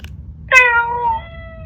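A Chongker MateCat Pro interactive robot cat gives a single clear, close meow that sustains and trails off over a quiet background.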